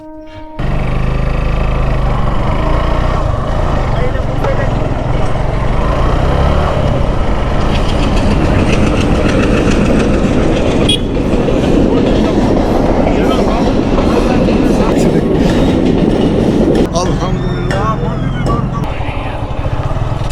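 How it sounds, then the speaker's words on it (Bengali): A train rumbles past close by with loud rolling wheels and rhythmic clickety-clack over the rails, a steady heavy roar that shifts near the end as the cars go by, heard outdoors during a casual cricket game. "ট্রেন চলে গেল।"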